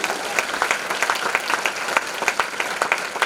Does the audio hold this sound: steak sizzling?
no